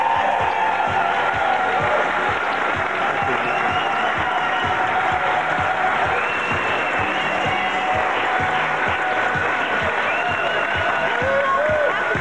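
A studio audience at a Miss Arabella 1996 beauty pageant on ProSieben applauds and cheers for the winner, steady sustained clapping with whoops throughout, with music or announcer audible underneath.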